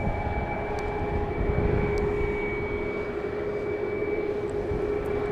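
A Boeing 737 MAX 8 jet airliner at Dallas Love Field gives off a steady, broad engine roar with a constant whine, heard from a distance outdoors.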